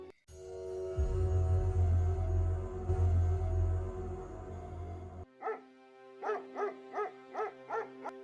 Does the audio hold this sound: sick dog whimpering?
yes